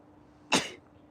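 A single sharp sneeze bursts out in a quiet room, loud and sudden, then fades quickly.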